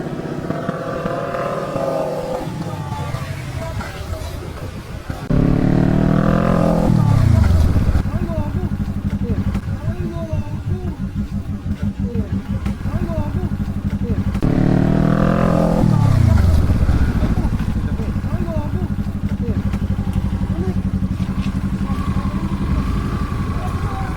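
A motorcycle engine droning steadily on a road, with two sharp pitch drops as it slows abruptly, and a voice talking loudly over the engine noise throughout.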